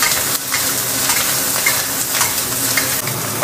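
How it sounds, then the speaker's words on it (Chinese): Chicken stir-fried in a wok with scallion and ginger, a loud, steady close-up sizzle with occasional scraping of the spatula against the pan. "现在来炒鸡肉，把这个锅给它润一润"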